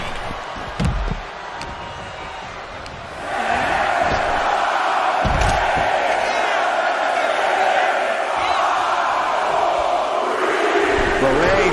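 Wrestling arena crowd in WWE 2K24 roaring with sustained cheering that swells after a few seconds, with a few sharp impacts early on and broadband crowd noise filling the whole stretch.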